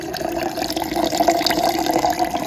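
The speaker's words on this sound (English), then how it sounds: "I'm going to be filling up my water cup." A cup being filled with water from a tap at home after school, a steady continuous pour running close and fairly loud for the whole stretch without speech.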